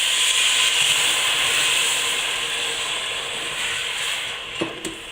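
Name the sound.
deglazing the pan with white wine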